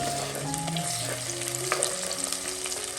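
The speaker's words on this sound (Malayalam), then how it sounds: "ഈ ഉള്ളി എണ്ണയിൽ നന്നായിട്ടൊന്ന് മൂപ്പിച്ചെടുക്കണം" Small onions and green chillies fry in hot oil for a Kerala-style fish curry, a close, steady sizzle with stirring clatter and a faint musical tone running underneath.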